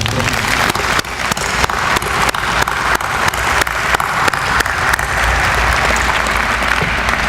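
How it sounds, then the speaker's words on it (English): An audience at a school ceremony applauds faculty and staff: a steady, full round of clapping from many hands, close and even, with no voices over it. "let's give them all a round of applause"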